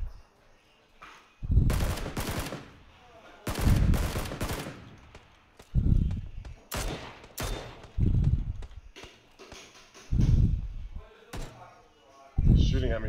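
Gunfire in PUBG, loud bursts of shots in several separate volleys spread over several seconds, close and sharp, with a player talking between them.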